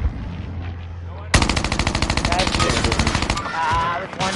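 Rapid automatic gunfire in a Call of Duty match bursts in suddenly and loud, a dense rattling stream of shots lasting several seconds before trailing into softer game noise.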